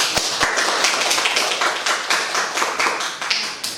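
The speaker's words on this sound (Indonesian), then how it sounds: "Kita beri applause untuk kita semua" Classroom applause after student presentations, a dense burst of many hands clapping that carries steadily for a few seconds at close range with no talking.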